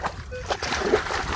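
A splash of someone jumping into water on a historic voyageur canoe route, a brief close wet splatter and slosh with a dog and voices mixed in.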